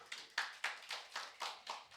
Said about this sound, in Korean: 하나님께 영광의 박수 한번 들려요.